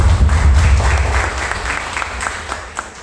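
An audience at a university paralegal law-education seminar breaks into applause, a dense burst of clapping that thins out and fades over a few seconds.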